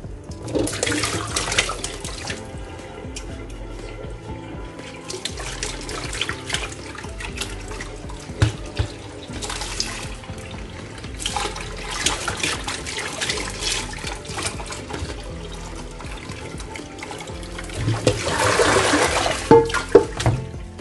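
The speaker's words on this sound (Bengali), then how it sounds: "সবজিগুলো ভালো করে ধুয়ে নিচ্ছি" Vegetables are washed under a running kitchen tap, with steady water splashing and gushing into the sink while produce is handled. The flow is continuous and close, surging louder near the end, and no one speaks.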